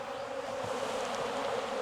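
Honey bees drone in a steady, dense buzz while an open hive is inspected, a continuous close swarm hum holding even in loudness with no voices over it.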